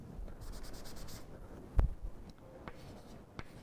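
Quiet hand writing of a math equation, soft scratchy strokes and a few faint taps across a few seconds, close and alone.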